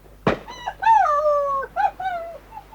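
In a radio drama, a dog gives a sharp yelp and then long, wavering howls and whimpers, close and loud, with short breaks between cries.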